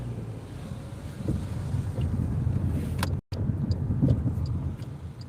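A Chevrolet Malibu drives along a residential street, its steady low road and engine rumble mixed with wind buffeting across the microphone, broken by a brief cutout near the middle.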